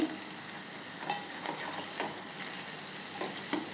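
Chutney and turmeric being sautéed in a pot, a steady soft sizzle with occasional stirring scrapes and clinks, close and alone without talk.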